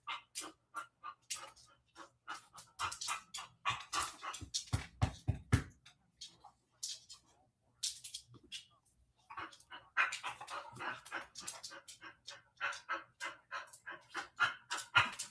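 A pet dog pants in quick, steady bursts close by, breathy and rhythmic through most of the stretch, with a short pause in the middle before the panting picks up again.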